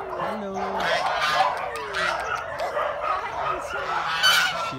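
Geese honk several times in short nasal calls, close by, at an animal shelter in China, over a murmur of voices and outdoor background noise.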